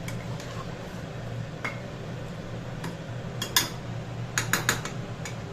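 Chicken and potatoes being sautéed in a pan, with a low steady sizzle under intermittent metallic clinks and scrapes of a utensil against the pan, close by.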